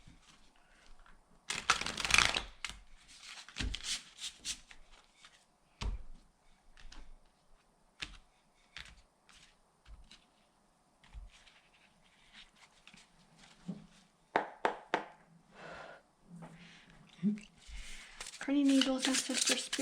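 Tarot cards shuffled in soft, brief riffling bursts between stretches of quiet, close by, with a person speaking softly.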